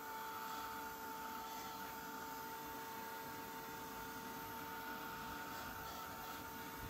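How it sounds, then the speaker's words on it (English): A heat gun blows hot air in a steady, even hiss with a constant tonal hum, fairly quiet and unchanging for the whole stretch, during jellyfish craft work. "I'm going to give this a quick blast with my heat gun."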